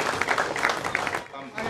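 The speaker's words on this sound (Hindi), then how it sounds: "जोरदार तालियों से स्वागत" A crowd greets election candidates with a burst of clapping, fairly close and uneven, with a voice mixed in and a brief dip before the applause picks up again.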